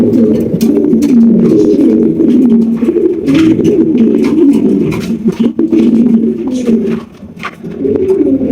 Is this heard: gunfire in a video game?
no